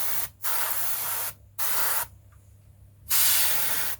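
Three short bursts of airbrush spray lay grime weathering onto a 1/35 Dragon IDF Magach 3 model tank turret, each a steady close hiss separated by quiet pauses.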